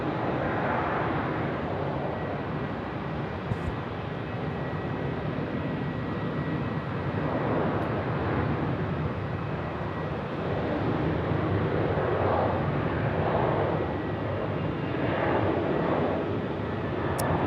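Malaysia Airlines Airbus A330-900 airliner at Melbourne Airport, its jet engines giving a steady, moderately distant roar that swells and fades gently throughout.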